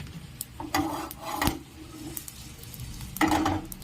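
Whole spices dry-roasting in a pan: dried chili, cinnamon, cardamom, black pepper, cumin and fennel. Soft scraping and stirring with faint rattles and a couple of louder scrapes, close and fairly quiet.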